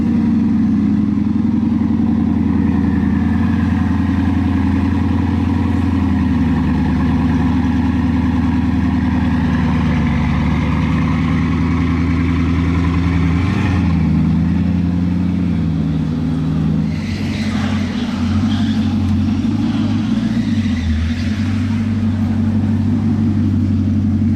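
A Mercedes SLR engine idling loudly nearby with a steady low rumble, then revving up around the middle and pulling away as the tone shifts, with no talking.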